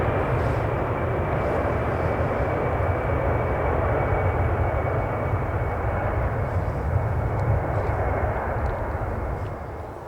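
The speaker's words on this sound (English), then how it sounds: "Already taxiing on to the runway is the Ryanair" Ryanair airliner taxiing onto the runway at Manchester Airport produces a steady, loud engine drone and whine that holds constant throughout, easing slightly at the end.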